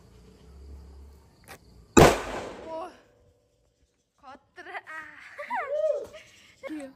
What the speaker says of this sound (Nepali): ल अब नेक्स्ट चकलेट बमै यो